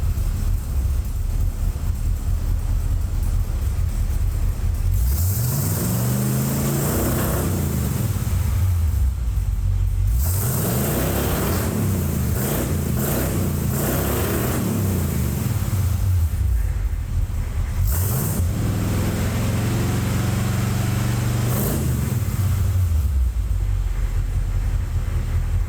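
A Jeep CJ7 fitted with FlowFX mufflers idles with a steady, deep low rumble throughout, overlaid by broadband wind buffeting on the microphone.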